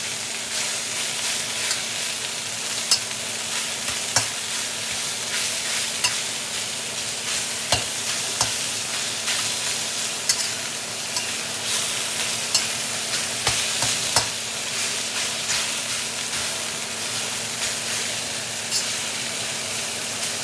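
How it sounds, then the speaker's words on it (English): Sirloin beef strips searing in a hot stir-fry pan for black pepper beef, a steady loud sizzle with occasional stirring clatter and scrapes throughout, no talking. "We're getting good sear. Try to get the other side."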